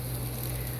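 Corn kernels sizzle in a hot frying pan, a steady close crackling hiss that holds evenly throughout with a low hum beneath.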